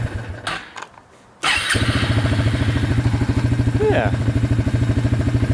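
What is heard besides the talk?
Suzuki Ozark 250 quad engine starting and running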